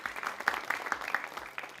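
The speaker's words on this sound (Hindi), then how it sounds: "तालियों के साथ सर का एक बार स्वागत कर दीजिए" An audience on a televised health panel about heart attack symptoms gives a cardiologist a short welcome round of applause, fairly faint with distinct individual claps standing out.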